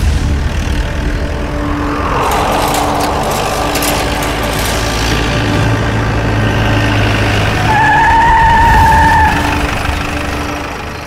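A car skids to a stop, loud and close, with a rising tyre squeal and engine noise that swell near the end and then die away, and no voices are heard.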